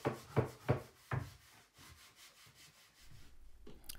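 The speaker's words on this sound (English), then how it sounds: "These are just bits of cloth that are impregnated with something that grabs onto the dust in the grain after we've been sanding and pulls it out." A tack rag cloth rubs over sanded wood in three strong, rhythmic swipes, followed by quieter, irregular wiping and handling sounds.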